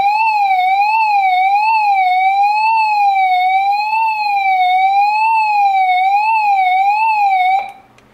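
An AIRSSON solar hand-crank emergency weather radio sounds its siren alarm, a loud, piercing tone sweeping up and down in a fast, steady wail that cuts off at the end.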